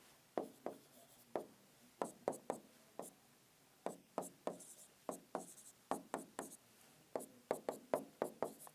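A pen taps and scratches on graph paper while marking axes, making a steady series of sharp, close ticks and short strokes in irregular clusters with no talking.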